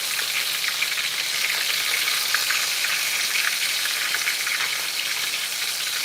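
Sliced okra frying in a pan gives a steady, close, dense crackling sizzle that holds at an even level throughout, with no voices.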